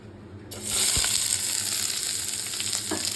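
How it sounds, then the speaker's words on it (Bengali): Chicken and onion frying in a pan in a home kitchen, a steady loud sizzle that starts abruptly and keeps going, with a few faint clinks of stirring. "মানে চিকেন পেঁয়াজ একটুখানি ভেজে নেওয়া"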